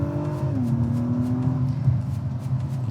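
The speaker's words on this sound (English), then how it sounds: "the transmission kicks down, giving you those nice downshifts with the little blip" Acura TLX sports sedan engine revving as the transmission kicks down, a throttle blip rising then settling into a steady drone, heard from inside the car at a strong level.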